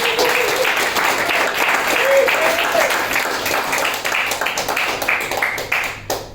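An audience at a film critics' awards ceremony breaks into sustained applause, a dense wash of clapping with scattered cheers that holds strong before thinning out toward the end.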